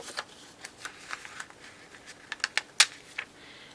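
An adhesive paper tab, made from decorative paper and scored on a cutting machine, being peeled off its sheet: soft crinkly rustles build into a few sharp crackling tears near the end, close and quiet, with no talking.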